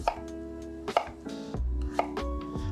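A knife slices through sweet potato and other food on a cutting board, giving a handful of crisp, separate cuts with soft knocks against the board at an even pace, close and fairly quiet, with no talking.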